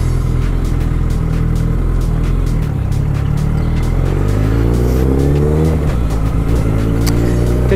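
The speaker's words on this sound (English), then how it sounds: "I've opened up a gap to give some beans and you can hear this bike" Suzuki GSX650F motorcycle engine revving up under acceleration, a loud, close, continuous roar with rising pitch sweeps as it climbs through the gears.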